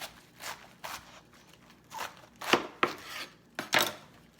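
A knife chops a green apple into slices on a cutting board for slaw, about eight crisp, distinct strikes in an irregular rhythm, close and clear with no talking.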